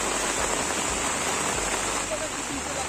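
Rain falls outdoors in a rural forest area, making a steady, close hiss of drops that continues unbroken, with a few low thumps underneath.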